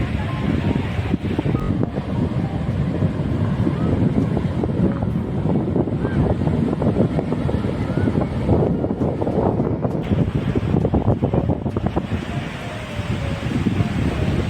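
Strong wind at Bhuigaon beach in Vasai, a busy Sunday shore lined with casuarina trees, roaring steadily into the microphone as loud, constant buffeting rumble that buries any other sound.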